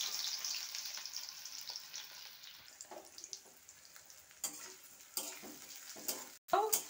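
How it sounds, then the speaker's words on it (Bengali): Onions frying in hot oil in a pan give a steady, close sizzle with crackling bursts, a few utensil scrapes and knocks toward the end, and no talking. "পেঁয়াজগুলো ভেজে নেব।"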